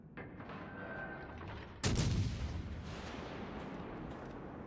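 Naval guns on a warship thunder in World of Warships Legends, one loud booming salvo rolling out over steady engine and ambient noise, its rumble slowly fading across the following seconds.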